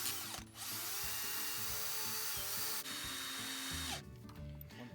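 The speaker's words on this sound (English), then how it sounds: "with the drill spinning, I can just file this." A power drill spins a washer while it is filed, whirring steadily and loudly, with a scraping, grinding texture layered over the motor's hum, briefly dipping before stopping near the end.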